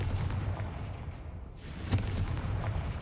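A Confringo fire spell blast in the game Hogwarts Legacy, a continuous rumbling roar of fire with a brief whoosh and a sharp burst near the middle, loud and close with no talk.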